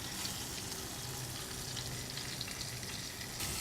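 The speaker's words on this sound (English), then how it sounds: "you want to fry the lamb in batches" Lamb pieces frying in hot oil in batches for a Moroccan lamb stew, a dense, steady crackling sizzle that fills the whole stretch, close and unbroken, with no talk.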